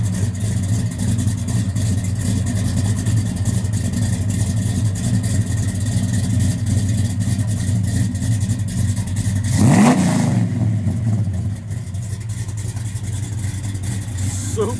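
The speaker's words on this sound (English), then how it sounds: "tough sounding car, guys. The 12 bolt posi with 331 gear. Got 3-inch exhaust out the back." A 1966 Chevrolet Chevelle SS 396 V8 with a 3-inch exhaust idles with a deep, steady rumble, then revs sharply once near the end and settles back to a lower idle, loud and close.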